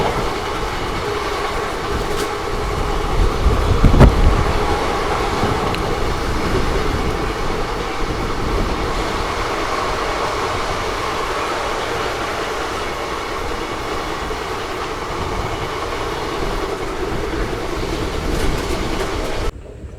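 Kakinada Town–Mysuru special passenger train running steadily on rails near Yelahanka Junction, a continuous loud rumble of wheels and carriage noise with a heavier thump early on, no voices.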